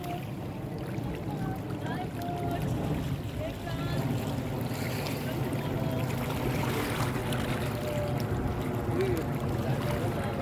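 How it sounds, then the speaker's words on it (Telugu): A boat passes close by on Norman Lake in North Carolina on a full-moon evening, its steady engine and water rumble loud and near throughout, with a slight swell partway through. "మనకు బోటు ఎంత దగ్గరలో నుంచి వెళ్తుంది ఫ్రెండ్స్, మీరు చూడండి"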